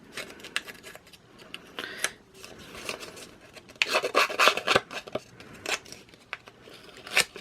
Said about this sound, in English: I'm also going to distress my tag.